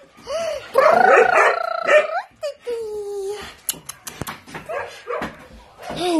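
A mountain puppy yelps and barks in bursts, up close and fairly loud, with someone talking to it in between and occasional sharp knocks.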